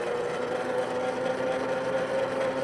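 Mini dirt bike motor held at full throttle under a 260-pound rider on level 1, a steady, continuous high-pitched whine with a constant tone and no breaks, close and fairly loud throughout.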